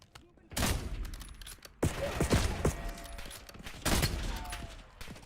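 Bursts of shotgun fire in the Black Ops 7 campaign, several loud blasts in quick clusters with sharp onsets and short decays, separated by brief quieter gaps.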